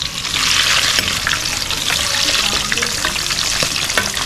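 Pork intestines (isaw and tumbong) sizzling in hot oil during a second fry for crispy chicharon bituka, a steady loud crackle with bursts of popping and occasional stirring throughout.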